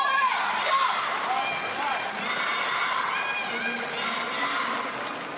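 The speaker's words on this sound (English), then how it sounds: "You can hear some of the crowd here." Crowd murmur and scattered cheering fill a table tennis arena at the 2017 World Championships women's singles match, with pockets of Chinese supporters, a steady dense hum of voices throughout.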